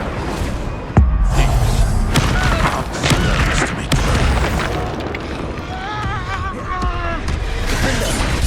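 Spell explosions in the Hogwarts Legacy video game go off as a run of loud, close booms and bursts, each with a sharp onset, while a voice shouts spell names over the blasts.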